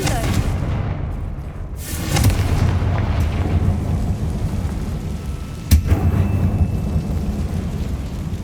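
A Confringo blasting curse going off inside an abandoned mine in the game Hogwarts Legacy, a deep rumbling blast over a constant low roar, with a sharper impact a few seconds later.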